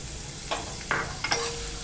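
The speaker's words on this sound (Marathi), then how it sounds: "तेल गरम झालं ना की आपण कांदा टाकून घ्यायचा आहे" Onion hitting hot oil and being stirred in a pan for a Malvani-style fish curry, with a steady soft sizzle and a few brief scraping stirs, close and alone.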